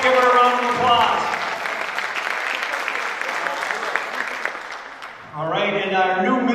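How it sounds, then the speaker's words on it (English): A crowd at a 2020 coaches and advisors meeting gives Janice a round of applause, a sustained wash of clapping between moments of talk that returns at the end. "Let's give her a round of applause"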